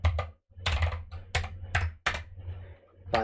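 Computer keyboard being typed on, likely with switchless or clicky keys, giving a close, steady patter of sharp keystrokes in short bursts with brief pauses.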